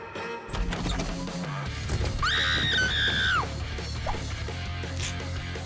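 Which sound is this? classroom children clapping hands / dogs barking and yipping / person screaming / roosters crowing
person screaming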